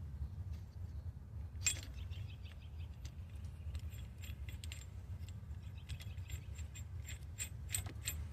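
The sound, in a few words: tightening a part on a Ford Mustang with a ratchet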